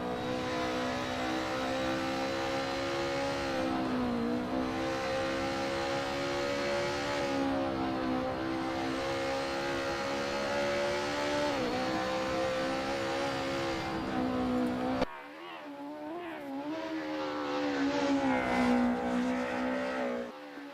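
A BMW racing through the turns of a mountain touge course in a racing video game, its engine droning and revving steadily with rising and falling pitch through each corner, loud and continuous with no voices.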